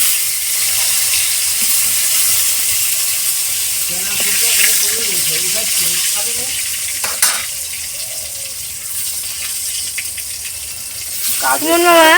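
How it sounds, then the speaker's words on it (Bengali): Eggplant (brinjal) fries in a pan, a steady hiss and sizzle with occasional stirring rattles, while people talk over it. "ফটাফট করে বেগুন ভেজে নেব"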